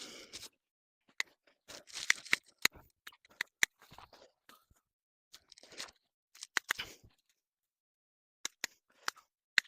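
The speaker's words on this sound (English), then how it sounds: "I like going in with my smaller pair to really, really cut down and away at the stems." Small secateurs cutting back salvia stems in a garden, producing sharp, close snips and crunchy clicks in irregular bursts separated by silent pauses, with no voices.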